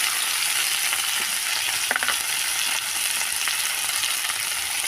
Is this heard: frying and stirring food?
yes